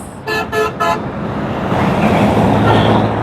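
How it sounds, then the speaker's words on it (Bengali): Three short train horn toots sound near a rural market beside a road by the Jamuna bridge in Tangail, followed by a steady, loud rolling rumble of the passing train. "হাটের পাশেই বিশ্ব রোড দেখেন ট্রেন চলে যাচ্ছে ভাই"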